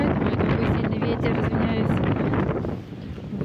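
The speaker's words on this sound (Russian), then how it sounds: "Такой сильный ветер" Strong wind buffeting the microphone outdoors on a walk with goats, loud, continuous rumbling gusts that ease slightly near the end.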